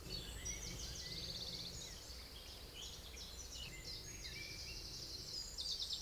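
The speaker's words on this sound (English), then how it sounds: "Just listen to these birds." Birds sing among the trees at Barton Broad while a boat drifts by. Bright chirps and short trilling phrases come faintly from a distance over a soft low background rumble, repeating throughout.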